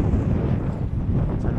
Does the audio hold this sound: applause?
no